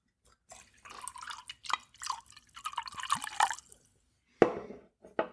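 Ale 8-1 blackberry soda poured into a drink, a few seconds of uneven glugging and splashing liquid, then a short pause and a sharper clink or splash near the end.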